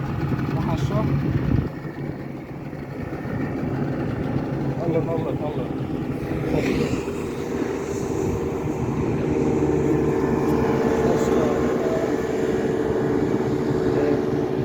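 A twin-engine propeller airplane passes over a calm sea off Oman, heard from a boat as a steady, distant drone. It continues under nearly constant talking.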